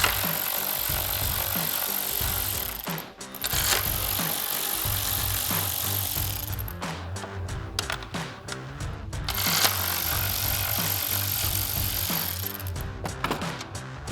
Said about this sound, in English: we're going to take our 3 7mm screws that hold our turn signal in out